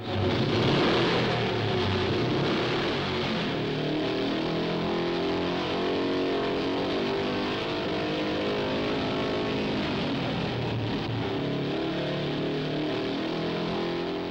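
AJS and Norton single-cylinder racing motorcycle engines running on a test brake, a dense, continuous mechanical roar held at a steady high level without pause.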